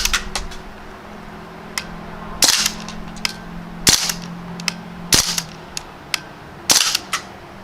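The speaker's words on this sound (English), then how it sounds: "It's definitely firing bursts" A Crosman Panther Arms DPMS BB rifle fires in sharp snapping shots, some single and some in quick doubled bursts, spaced irregularly over several seconds with a faint hum underneath.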